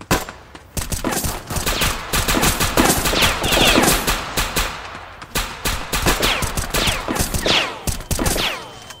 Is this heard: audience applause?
no